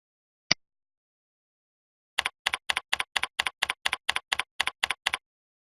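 A single click, a short pause, then a quick, even burst of about a dozen crisp computer keyboard keystrokes as a project summary is typed, close and clean against silence.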